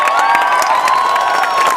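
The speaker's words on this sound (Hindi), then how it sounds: "एक बार तो आपकी जोरदार तालियां।" Audience at a singing event cheering and clapping, loud high-pitched shouts and whoops over scattered claps, close and lively for a brief burst.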